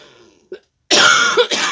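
A single sharp cough bursts out after a short pause, followed by a second rougher cough and throat-clearing, close and loud.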